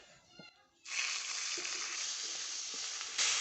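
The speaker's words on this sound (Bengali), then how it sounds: "ফোড়নের কালারটা চেঞ্জ হয়ে গেছে দিয়ে দিচ্ছি আদা রসুন পেঁয়াজ বাটা" Ginger, garlic and onion paste dropped into oil with browned whole spices and dried chilli: quiet crackling, then a sudden loud burst of steady sizzling that holds and swells again near the end.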